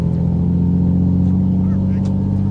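A loaded semi-trailer truck's diesel engine labors steadily uphill on a highway, a loud, continuous low harmonic drone heard from inside the cab with faint background sounds.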